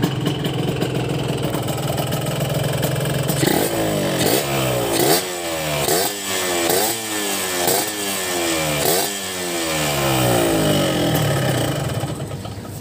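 A two-stroke motorcycle engine idles, then is revved repeatedly in rising and falling bursts, close and loud, with a buzzy raspy exhaust note.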